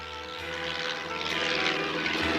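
A small propeller airplane in an animated French children's cartoon drones steadily and close during a landing approach, its engine a continuous loud hum with no talk over it.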